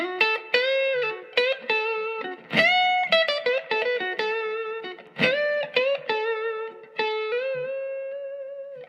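An electric guitar plays a quick, expressive blues lick in the B.B. box position with bent and vibrato notes, clean-toned with slight grit, alone and fairly close.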